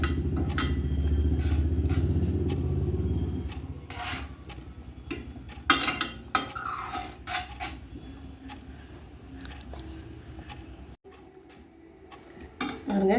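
Vermicelli kesari being stirred in a pan over a slow flame, with intermittent metallic clinks and scrapes of a spoon against the pan amid a low background rumble; no talking.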